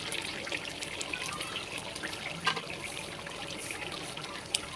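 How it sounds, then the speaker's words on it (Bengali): Kewra water, two teaspoons, poured into a pot of meat roast cooking with spices, milk and green chillies, gives a soft steady trickle and splash of liquid at close range, with no talk over it. "এরপর আমি 2 চা চামচ এখানে কেওড়া জল দিয়ে নিচ্ছি"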